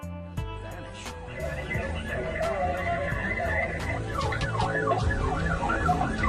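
Police car siren on a dashcam during a car chase, loud and close, with a wailing, swooping tone that rises and falls steadily over engine noise.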